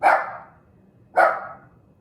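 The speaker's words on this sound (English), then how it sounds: "That's my dog barking." Two loud, close dog barks about a second apart, each sharp at onset and trailing off, with quiet between them.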